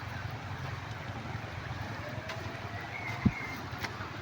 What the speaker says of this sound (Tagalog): Yan malakas ang ilog dito.